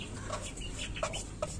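Chickens cluck softly at a feed tray, with a few short, close sounds over a steady low background.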